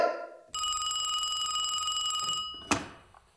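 An old telephone bell rings in one long, steady metallic trill lasting about two seconds, followed by a brief clack as the receiver is picked up.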